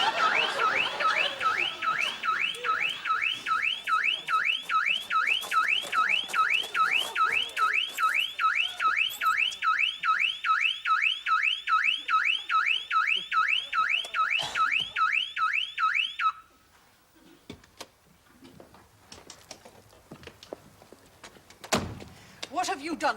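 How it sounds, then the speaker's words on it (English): A car burglar alarm wails in a fast, steady repeating siren cycle for about sixteen seconds, then cuts off abruptly, leaving quieter knocks and a thud. "I had a burglar alarm fitted."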